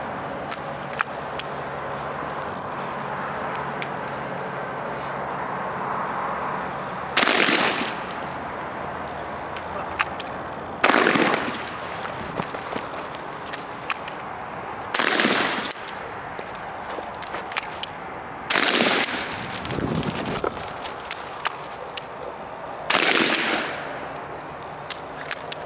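A Topper 20 gauge shotgun fired outdoors, five loud single blasts spaced several seconds apart, each ringing out over a quiet background with faint movement between shots.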